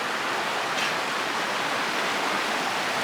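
River flowing in the Uinta mountains, a steady broadband rush of water that holds even and unbroken throughout, with no voices over it.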